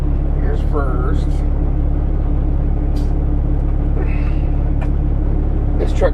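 A truck pulls away in first gear, with a heavy low engine rumble droning steadily up close, a few squeaks and clunks over it, and someone talking briefly.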